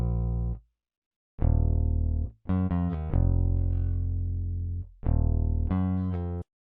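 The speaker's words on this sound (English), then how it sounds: "Dry sounds like this." Dry Rickenbacker bass sample in FL Studio with no effects, low sustained notes in three phrases separated by brief silences, a few fast repeated notes, clean and alone.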